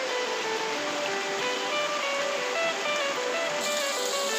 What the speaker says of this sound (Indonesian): sambil mendengar suara gemericik air